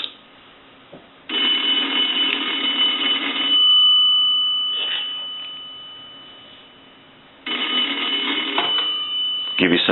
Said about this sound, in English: we have the payphone plugged into the analyzer, and we want to ring the analyzer